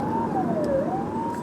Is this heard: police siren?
yes